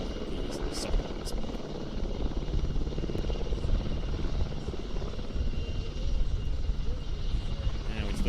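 A PZL W-3A Sokol helicopter hovering at an airshow rescue demonstration, with a steady, dense rotor and engine roar that holds at an even loudness throughout, faint voices mixed in beneath.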